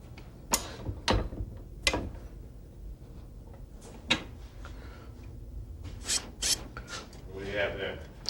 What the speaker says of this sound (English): we're going to scoot over to the vise and do just a little bit of filing there